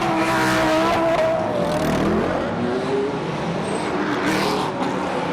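GT1 race cars pull away at the start on a wet Moscow Raceway track, several engines revving and accelerating loudly at close range, their pitch climbing and overlapping with faint tire hiss.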